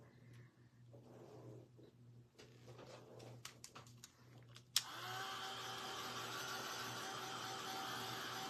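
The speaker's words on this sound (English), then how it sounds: "Let me just run the dryer really," A craft dryer blowing over a freshly painted, Mod Podge-coated home decor piece switches on abruptly midway after a quiet room, then gives a loud, steady whooshing roar to the end.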